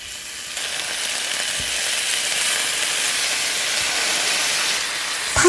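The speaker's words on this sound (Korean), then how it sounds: "각각의 면을 1분간만 구워주시면 돼요." Cabbage pieces seasoned with salt, paprika powder and olive oil sear in a hot pan over high heat, giving a loud, continuous sizzle and hiss that holds steady with no talk.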